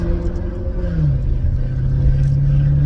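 A loud Maserati GranTurismo S engine rumbles steadily up close through its exhaust, its pitch rising briefly in a short rev before settling into a deep, throaty idle.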